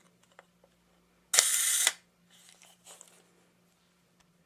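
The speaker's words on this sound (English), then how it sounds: "Then we'll run one of the time shutters. We'll do the half-second" Single crisp camera shutter release on a Voigtlander Bessa R2A set to a half-second exposure: a sharp mechanical snap, then a pause and a few soft clicks as the mechanism closes, close up in a quiet room.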